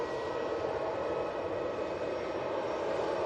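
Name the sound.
easyJet A320-200 taxiing onto runway 23 left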